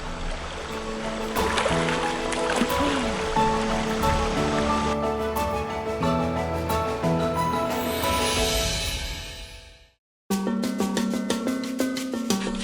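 Fresh water splashing and flowing steadily while a man bathes outdoors in a Halmahera forest, a continuous close rushing wash that cuts out briefly near the end, then resumes.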